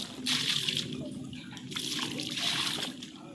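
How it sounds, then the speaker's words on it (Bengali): Bath water splashes and pours in a home, a fairly close, uneven wash of running and sloshing water, with some murmured speech faintly underneath. "এটা স্নানের জল যাচ্ছে, এই জলে স্নান করবো।"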